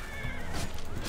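Horse neighing and whinnying in the video game Oblivion, a steady close whinny over a continuous game ambience lasting about a second.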